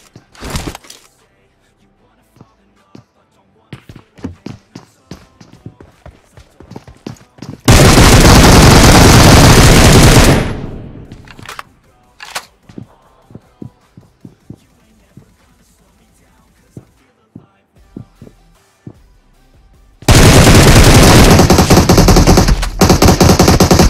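Rapid automatic gunfire from a mobile shooter game with a double assault rifle loadout, heard as two long, loud sustained bursts separated by scattered single shots and quieter clicks.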